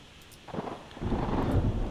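Thunderstorm in the naval warfare game Ultimate Admiral Dreadnoughts, with a low rolling rumble of thunder swelling over steady rain and wind noise, loud and building across two seconds.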